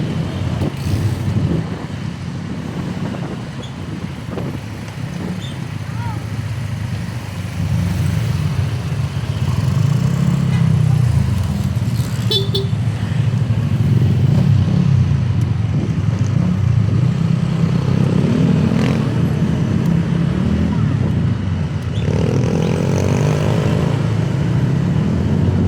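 Busy city traffic near an SM mall in the Philippines, with cars and motorcycles rumbling and passing close by in a steady, loud wash of engine noise that holds for the whole stretch.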